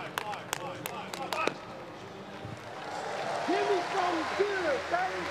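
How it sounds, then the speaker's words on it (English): A guide claps sharply and rhythmically at the take-off board for a blind long jumper at the World Para Athletics Championships in London, a few crisp claps early, then crowd noise and commentary voices over the stadium ambience. "you hear the clapping of his guide there at the board"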